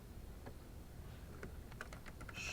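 Computer keyboard keys tapped in a quick irregular run of light clicks, ending with a louder press like the enter key, close and alone over a low steady hum.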